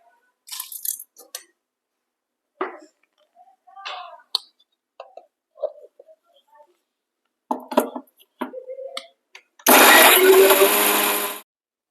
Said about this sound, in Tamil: தக்காளி, காஞ்ச மிளகாய், பூண்டு, கொஞ்சமா உப்பு சேர்த்து அரைச்சிக்கலாம்.